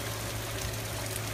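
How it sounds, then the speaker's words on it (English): Fast-moving hurricane floodwater rushing down a Houston street during Hurricane Harvey, a steady, dense watery rush and churn heard continuously at moderate distance, no speech over it. "you can just tell how fast the water's moving by the speed of this chair"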